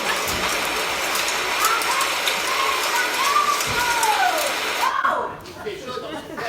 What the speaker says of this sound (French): Bah, c'est la pluie